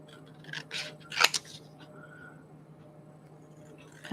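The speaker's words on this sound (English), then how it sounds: "now I'm going to cut these" Scissors snip through paper up close, cutting the pieces of a little pumpkin page apart. There are a few quick crisp cuts grouped near the start, then quiet rustling.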